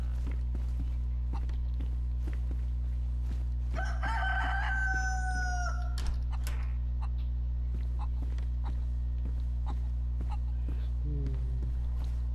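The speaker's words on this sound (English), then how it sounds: "Don't worry, chicken. I'm not after you today." A rooster crows and chickens cluck in the survival game DayZ on PS4, set against a steady low hum and footsteps, with the crow standing out clearly for a couple of seconds.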